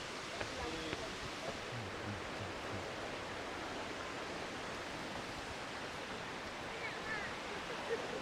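Steady broadband roar of a waterfall seen from a close viewpoint up steep steps along a Canadian highway, continuous and unbroken with faint wind.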